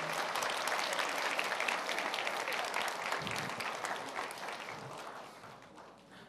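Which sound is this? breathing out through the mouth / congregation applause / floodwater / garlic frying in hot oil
congregation applause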